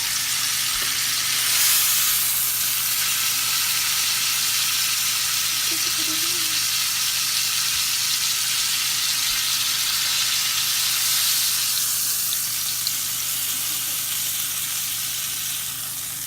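Garlic sizzling and frying in a hot pan beside seared beef tenderloin, a steady broadband hiss that carries on unbroken and fairly loud throughout, with no talking.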